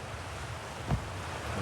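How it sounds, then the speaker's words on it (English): Steady rushing roar of a waterfall in the video game Outer Wilds, a broad unbroken wash of noise that holds evenly throughout, with one brief low thump partway through. "Then waterfalls are very loud"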